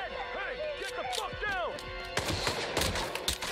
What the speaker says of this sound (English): Oh, geez, getting shot.